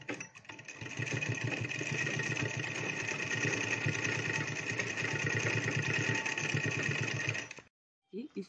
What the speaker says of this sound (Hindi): और यहाँ पर हम सिलाई लगा देंगे।